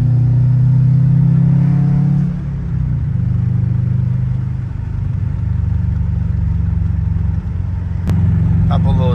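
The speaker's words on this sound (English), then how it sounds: "Couple little driving videos just for the sound quality. See how this all sounds." A tuned 2012 Subaru WRX with full bolt-ons drives along, its steady engine drone shifting pitch as revs drop and rise through a gear change, heard close from inside the car with a brief sharp click near the end.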